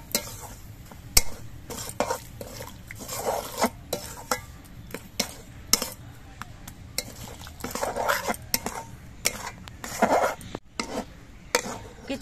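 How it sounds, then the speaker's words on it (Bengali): Semolina and water are stirred into a dough in a pan, with irregular close scrapes, knocks and clatter of a utensil against metal and a faint sizzle underneath. "কিছুক্ষণ নাড়াচাড়া করে সুজিটা এরকম ডো তৈরি হয়ে গেছে।"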